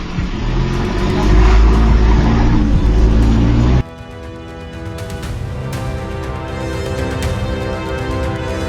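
Cars driving through a bus lane, heard as a loud, continuous engine and road roar for several seconds that cuts off abruptly and gives way to quieter, steadier traffic hum under a layered background.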